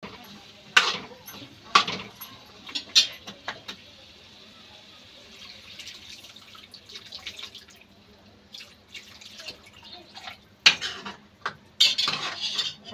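Masala and peas roast in a pan as a spoon stirs, giving scattered metallic clinks and scrapes in irregular bursts over a quiet background.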